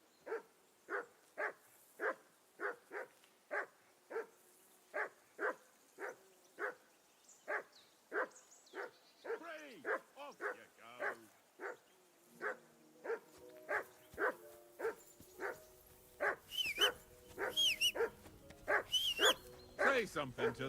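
A dog in the medieval game Kingdom Come: Deliverance II barks in a long, steady series of evenly spaced woofs. Near the end the barking turns into yips and whimpers, with other game sounds mixed in.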